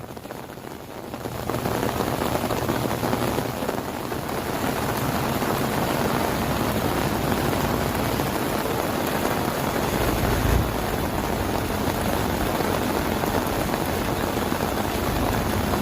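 Steady, dense rain falls throughout on a Ford 7840 tractor at work, a constant broadband hiss with a low rumble beneath, like rain drumming on a roof or vehicle.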